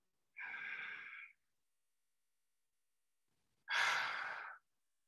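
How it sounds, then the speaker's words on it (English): Two deep, audible breaths close to the mic, a long inhale followed by a slow exhale, each lasting about a second with silence between them, made during a guided breathing moment at the start of a virtual gathering. "I'm gonna take a deep breath in and invite you all to take a breath with me"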